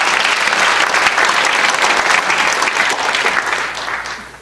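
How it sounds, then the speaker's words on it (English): Audience applause at the opening remarks of a Jewish Refugees in Shanghai exhibit, a full burst of clapping that holds steady then fades over the last second. "A special round of applause for Greg."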